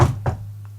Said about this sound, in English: Billy Bob's going to reach over and give a louder knock, but he's going to knock like 3 times